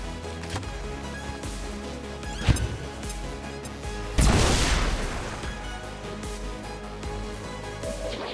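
A grenade detonates in the turn-based strategy game XCOM 2, a single loud booming blast midway that decays over about a second, preceded by a sharper crack, over steady background game music.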